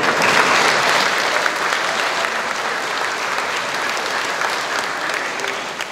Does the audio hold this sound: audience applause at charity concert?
yes